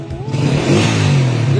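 A TMX 155 motorcycle engine, fitted with a new CDI and carburetor, revs up close and loud in one short rising burst of throttle.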